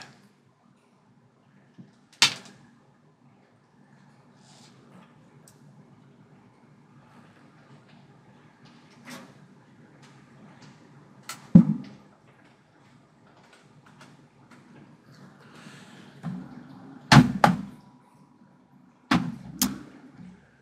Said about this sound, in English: that sound you just heard was the sound of my Logitech G920 racing wheel calibrating